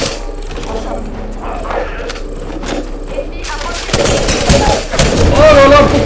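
Gunfire in the Apex Legends battle royale video game: rapid bursts of shots build into a loud, dense volley in the last couple of seconds, following quieter game sounds and someone talking.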